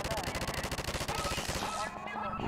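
A mounted gun fires in Half-Life 2, a rapid loud stream of evenly spaced heavy shots that ends with a brief fading tail.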